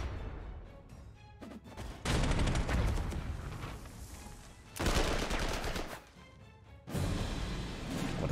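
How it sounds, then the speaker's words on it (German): Gunfire and cannon bursts from a tank attacking a Panther tank in the WWII strategy video game Panzer Corps 2, arriving as three loud battle blasts with quieter gaps between them. "Da greift er jetzt den Panther mit einem Panzer an."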